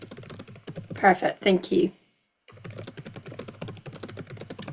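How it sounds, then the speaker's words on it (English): Rapid computer keyboard typing clatters steadily and close up, pausing briefly while a voice speaks a few words, then resuming in a dense run of keystrokes. "I'm just typing an answer to another one about assumptions"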